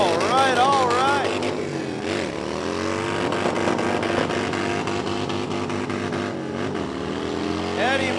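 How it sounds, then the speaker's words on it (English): Several motorcycles fitted with Bassani exhaust pipes rev loudly at a Sturgis drift and motocross show, their engine notes rising and falling in continuous overlapping waves under a dense crowd din, with a voice talking over it. "There's a ton of Bassani pipes screaming out here right now."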